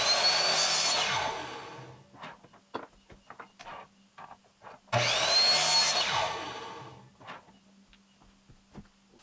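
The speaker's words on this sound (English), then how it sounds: "take it to the bandsaw and trim that off" A bandsaw cuts through a spalted wood pen blank in two loud, close passes, with quieter knocks and handling clicks between them.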